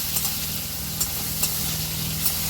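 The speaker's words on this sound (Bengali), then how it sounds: "চিংড়ি মাছটা হালকা করে ভেজে নিয়েছি, এবার আমি তুলে নেব।" Prawns frying lightly in a pan, a steady close sizzle with faint stirring clicks and no voices.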